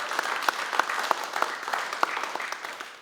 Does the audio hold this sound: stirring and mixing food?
no